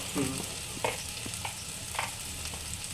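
Masala frying in a pan for a snail curry, with a faint continuous sizzle and a few soft, scattered stirring scrapes up close.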